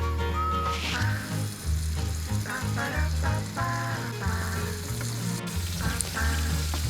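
Butter melting in a frying pan for the sauce of a creamy potato soup, a continuous sizzle under a loud tonal hum and some whistling.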